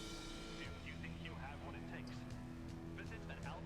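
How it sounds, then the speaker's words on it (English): A futuristic motorcycle engine in the video game Watch Dogs: Legion hums steadily with a smooth tonal drone throughout while a person talks over it. "That's a very futuristic sounding motorcycle."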